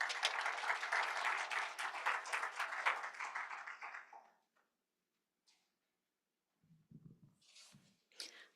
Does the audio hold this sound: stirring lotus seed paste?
no